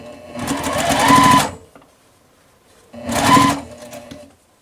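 Sewing machine stitching quilt pieces for a Crown Star quilt block, right sides together, in two loud, steady runs of about a second and a half each, separated by a short pause.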